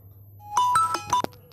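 Synthesized iPhone-style incoming call ringtone played on an Android phone made to look like an iPhone 13 Pro, a short bright run of chiming marimba-like notes that starts faintly and then rings out clearly, with no one talking.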